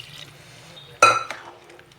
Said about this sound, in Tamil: அடுத்து வந்து நம்ம மசாலா அரைச்ச தண்ணி எல்லாமே இதில் கழுவி சேர்த்துக்கலாம்.